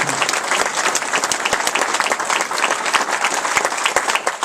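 A crowd at a community dedication ceremony breaks into sustained applause for donors, many hands clapping densely and evenly, loud and close throughout.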